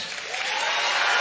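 A church congregation claps their hands together in a brief burst of steady applause that rises slightly in strength.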